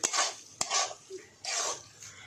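A spoon scrapes and stirs turmeric and Maggi masala through an okra curry (bhindi masala) in a pan, in several quick, close rhythmic strokes with short gaps and a faint sizzle underneath.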